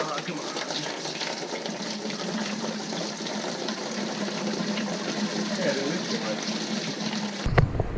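Coolant draining steadily from the cooling system of a Volvo 740 raised on jack stands, a continuous close trickling and splashing wash of liquid that runs unbroken for several seconds before cutting off abruptly.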